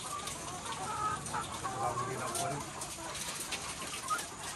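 A dense flock of poultry chickens clucking and murmuring continuously, fairly close, with a brief spoken phrase mixed in.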